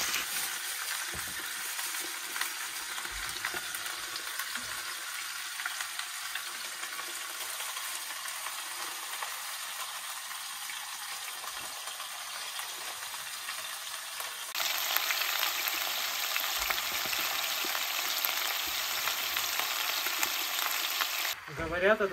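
Chicken pieces sizzle and fry in a pan over an outdoor campfire by a log cabin in the forest, a steady close crackling hiss that grows louder and brighter partway through, with no talking.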